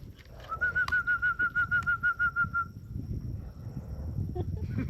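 A flock of white-winged doves passes overhead on a dove hunt, producing a quick run of about a dozen evenly pulsed whistling notes, then fading into open-air rustle and faint background voices.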